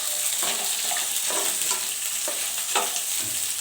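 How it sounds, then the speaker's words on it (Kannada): Ginger, onion and green chillies frying in a pan until brown for a paneer gravy, a steady close sizzle broken by repeated scraping stirs every half second or so. "ಶುಂಠಿ, ಆನಿಯನ್ನು, ಹಸಿಮೆಣಸಿನ್ಕಾಯಿ ಹಾಕ್ಕೊತಾ ಇದ್ದೀನಿ. ಇದು ಸ್ವಲ್ಪ ಬ್ರೌನ್ ಉರಿಬೇಕು"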